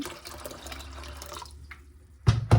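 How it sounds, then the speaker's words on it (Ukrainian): Water runs and splashes steadily into a pot of rinsed peas at close range, then stops, followed by a couple of soft knocks. "Заливаємо його водичкою."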